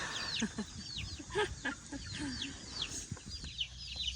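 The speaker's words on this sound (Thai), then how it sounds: "ถ่ายเอาไก่นะ" Chickens on a farm cluck and chatter in a busy overlapping flock, with several quick calls close by and others farther off under a low background hum.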